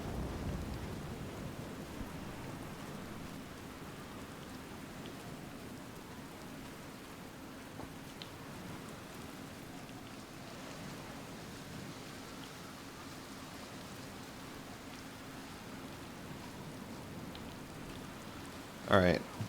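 Video game rainstorm with thunder: a steady soft wash of rain with low rumbling underneath and a brief louder crack near the end, no talk over it.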